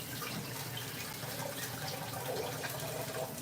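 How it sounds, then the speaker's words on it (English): Spring water pours steadily into a coffee maker's reservoir, a continuous close splashing gush that holds an even level from start to finish, with no talk. "And I gotta make the coffee. So in here. And I use spring water."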